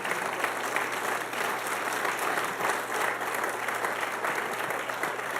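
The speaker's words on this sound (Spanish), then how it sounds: "¿Puedes darle un aplauso de alabanza a Él?" Church congregation claps in praise during a Spanish-language service, dense even applause from many hands filling the room without pause for over five seconds.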